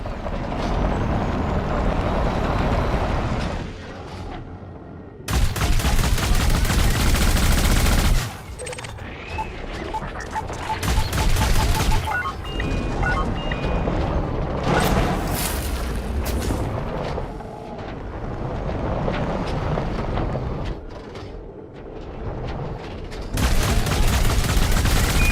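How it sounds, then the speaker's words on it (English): Laser gun fire in Elite Dangerous: Odyssey during a Christmas gift shop event, loud sustained bursts of blasting with booming impacts, broken by brief quieter gaps between volleys. "it's probably only one shot with my laser gun anyways"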